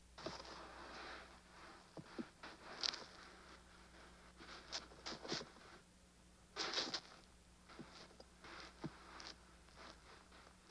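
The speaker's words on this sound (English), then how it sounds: "Then I added this backpack inside the texture" Close rustling and scraping of a backpack's fabric and straps, with brief zipper-like zips and soft taps scattered irregularly, fairly quiet throughout.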